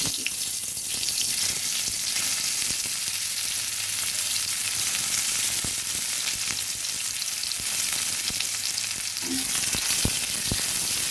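Sliced onions fry in extra oil added to the pan just used for frying pomfret, giving a steady, loud sizzle throughout with a few scattered clicks and stirring knocks, and no voices.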